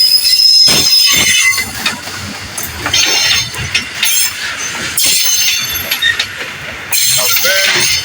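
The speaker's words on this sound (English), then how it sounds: "A very long train. We were lucky to be here today." A long train rumbles past close by in Nakuru, Kenya, its wheels squealing and screeching over the steady roar and clatter of the rolling cars.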